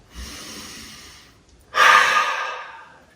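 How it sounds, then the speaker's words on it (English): Two deep cleansing breaths during a standing office stress-relief exercise, a softer inhale through the nose followed by a louder, longer exhale through the mouth, close and alone. "take one more cleansing breath"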